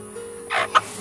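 A small black bearded Silkie hen gives a few short, soft clucks, one low broad murmur followed by two brief sharper notes, close by on a farm.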